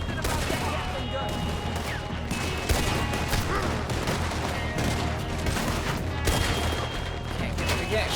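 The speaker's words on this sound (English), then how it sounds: "We need to do something about that Gatling gun." Steady, dense automatic fire from a Gatling gun in Red Dead Redemption 2 runs throughout. Rapid repeated shots overlap into a continuous loud rattle with a few heavier booms, and there is no speech in the clip.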